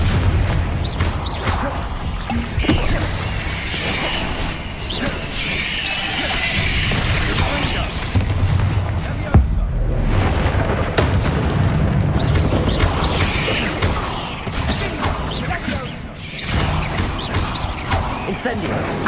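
Harry Potter video game combat with a string of loud booming spell explosions, crashes and whooshes, heavy and continuous, while a voice calls out spell names throughout.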